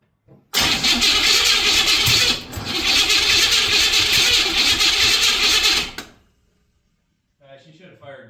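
A Buick 455 V8 cranks without firing, the starter churning loudly and steadily in two long bursts separated by a short pause, then stopping; a voice speaks briefly afterward.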